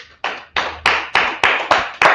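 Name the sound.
class clapping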